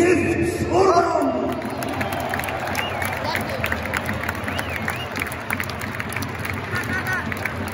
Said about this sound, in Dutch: Uw applaus voor Gift Orban!